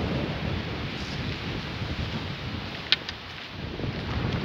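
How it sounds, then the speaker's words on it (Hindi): Strong wind gusts roar steadily across a mountainside, a loud continuous rushing that buffets the microphone with low rumble, surging and easing, with no voices. "ऊपर पहाड़ में ज्यादा हवा चलती है, जिसकी वजह से पेड़ भी सही तरीके से नहीं बनती है। देखो हवा धक्का दे रहा है"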